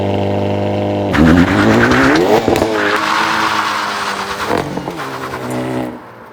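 A 2025 Hyundai Elantra N with a manual gearbox holds a steady high idle on launch control, then launches hard with engine roar, tire squeal and rising revs through a shift, loud and close.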